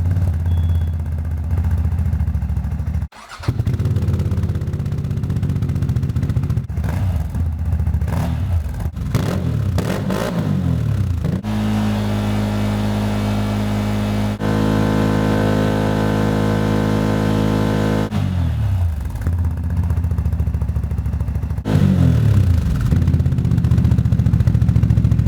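A CFMOTO CFORCE 1000 ATV fitted with an aftermarket exhaust runs loud and close, with repeated throttle blips and revs rising and falling, a steadier stretch of idle in the middle, and another burst of revving toward the end.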